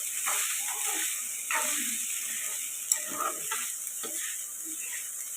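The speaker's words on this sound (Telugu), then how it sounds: "ఇప్పుడు బాగా కలుపుకుందాం పోపు ఆయిల్ బాగా రైస్ పట్టేలాగా" Cooked rice being stirred into hot tempering oil for lemon rice: a continuous gentle sizzle under irregular scraping and rustling strokes of the spoon, close and even.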